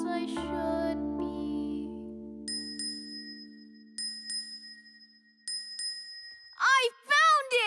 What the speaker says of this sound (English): I sure am feeling lucky, 'cause I've got this bell with me.